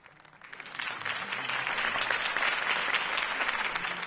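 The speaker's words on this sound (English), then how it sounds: "could have heard that applause" A crowd applauds after a campaign speech, the clapping swelling in within half a second and holding at a dense, steady level throughout.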